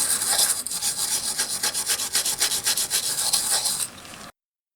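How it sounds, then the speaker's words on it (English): A cotton bud rubbed briskly back and forth over an N64 game circuit board to polish it, making a close, continuous scratchy swishing in quick rhythmic strokes that stops abruptly at the end. "I like to go back with a Q-tip or a cotton bud"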